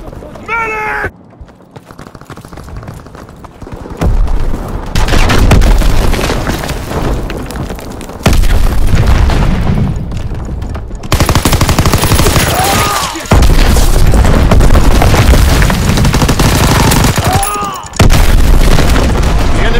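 In Call of Duty WWII, an ammunition supply blows up among loud booming blasts and heavy battle gunfire that keep surging over a constant roar, with a voice speaking over the din.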